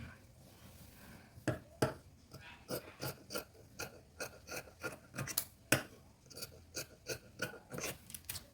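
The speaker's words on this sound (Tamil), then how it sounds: "இப்போ நான் எல்லா எக்ஸஸையும் கட் பண்ணிவிட்டு அதை ப்ராப்பராக கட் பண்ணிப்பேன்" Scissors snip through excess fabric on a collar lining in a regular series of close, crisp cuts, each a short rasping crunch, about two per second, with no speech.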